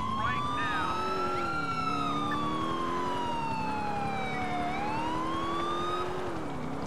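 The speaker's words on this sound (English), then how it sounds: "You can turn off the sirens, Slack." Wailing police sirens in Grand Theft Auto IV rise and fall continuously over a steady rumbling background, loud and close throughout.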